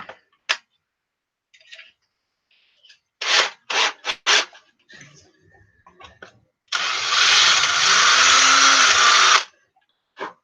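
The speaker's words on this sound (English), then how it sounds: "We're going to ream that hole out a little bit here." A reamer works out the primer hole of a used shotgun shell casing during reloading, heard as a few sharp scraping bursts followed by a sustained loud grinding rasp of about three seconds, close up with no talk.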